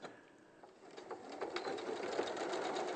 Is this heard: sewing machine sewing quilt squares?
yes